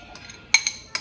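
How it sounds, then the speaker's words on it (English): A utensil stirs a chorizo, tomato and onion mixture in a dish, giving a few light, sharp clinks against the container, spaced out over a second in a quiet room. "we are going to stir all these elements and make a mixture"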